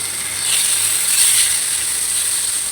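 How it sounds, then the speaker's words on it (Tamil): Curry leaves dropped into hot oil in a heated pan, cooking for a squid fry, give a steady bright sizzle and hiss that swells briefly and holds fairly loud throughout, with no talking. "பேன் ஹீட் ஆகிடுச்சு. கருவேப்பிலை போட்டுக்கிறேன்."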